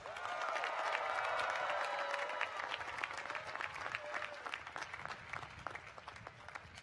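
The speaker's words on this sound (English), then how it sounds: "let's give them a big round of applause" Sustained applause from a large crowd at a university commencement ceremony fills the space, loud at first and gradually thinning out as the clapping tapers.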